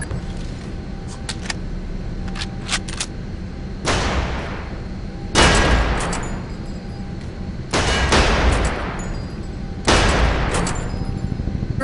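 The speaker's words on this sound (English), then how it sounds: "why don't you grab some ammo and we'll have a little shooting contest" Gunfire at a shooting contest in a video game: several loud bursts of shots at intervals, with faint clicks and a steady background hum between them, and no talking.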